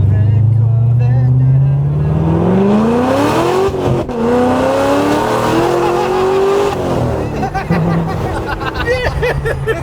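A Corvette with its wheels spinning, tires squealing loudly and continuously as the engine note rises and falls, with voices talking over the noise.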